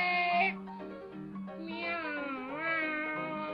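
A human voice imitates a cat, drawing out several whiny, meow-like cries with rising and falling pitch, close and fairly loud, with a short pause between the first cry and the longer ones that follow.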